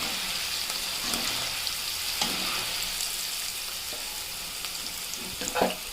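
Poha, flattened rice, fries in hot oil with green chillies, a steady, moderate sizzle with occasional soft ticks and a brief stir near the end.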